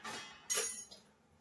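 A lid is lifted off a pot of grated potato cooking on the stove, giving one short, bright clink near the mic, followed by a faint settling sound.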